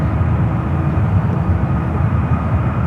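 An airliner departs from runway 28 at San Francisco airport, heard as a steady low jet-engine roar that holds at a moderate distance throughout.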